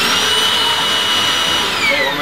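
A vacuum cleaner running steadily and loud throughout, a continuous whining drone with a shifting high tone, close by.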